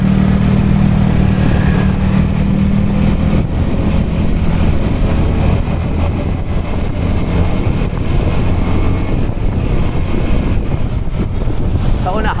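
Riding a motorcycle on the road, a low steady engine drone under heavy wind buffeting on the microphone, constant throughout.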